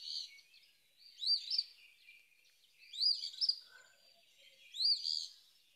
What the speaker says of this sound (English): It is none other than our Eastern Phoebe.